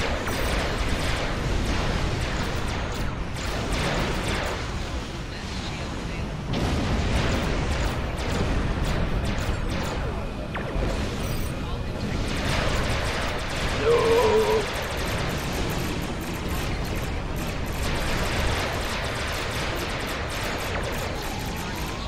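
Starship cannons fire and explosions erupt in the space game Star Trek Online, with continuous booms and bursts rolling over one another at loud, steady intensity for the whole stretch.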